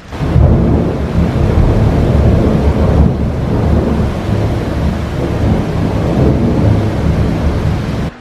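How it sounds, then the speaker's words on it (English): Deep rolling thunder rumbles loudly and continuously right overhead, with heavy rain hissing steadily underneath. "Wow, get a load of that thunder. It sounds like it's right overhead at the moment."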